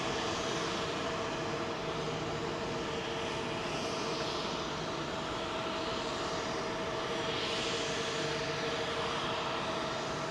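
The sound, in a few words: Bahrain Royal Flight jet at Heathrow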